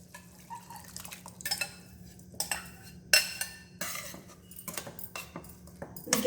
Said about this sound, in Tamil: சாம்பார் பருப்பு ஊற்றலாம்.